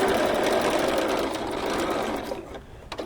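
Sewing machine stitching a holiday bench pillow cover, a loud steady rapid run of needle strokes that slows and stops near the end with a few faint clicks.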